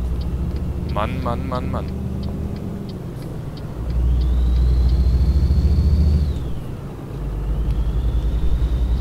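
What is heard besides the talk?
Scania truck engine accelerating, from a video game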